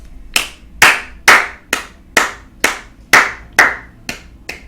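Ten sharp hand claps in a slow, even rhythm, close and loud, with no voices, during a Clan Masters fifth-place match.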